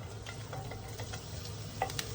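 Onions sizzling in ghee in a home kitchen, a soft steady frying hiss with a few light stirring clicks, faint and close, no voices.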